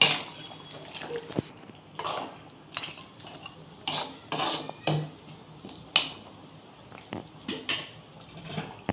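Beef curry being stirred in a pot after coriander leaves go in, with a utensil scraping and clinking against the metal in irregular bursts, close by and moderately loud, with no one talking.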